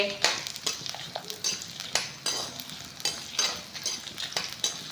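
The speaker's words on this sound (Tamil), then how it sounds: "இது கூடவே நான் ஒரு மூணு காஞ்ச மிளகா மட்டும் போட்டு வறுத்துக்கிறேன்" Three dried red chillies roast in a pan, with repeated scraping and clinking strokes of a spoon against the metal over a faint sizzle.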